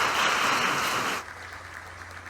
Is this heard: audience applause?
yes